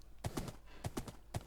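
Horse hooves clip-clop in Minecraft, three quick pairs of soft, hollow knocks in an even gallop rhythm, faint and close with no talking.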